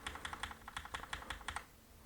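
Rapid clicking keystrokes on a computer keyboard during image editing, about a dozen crisp taps in an uneven rhythm, close and quiet, then stopping.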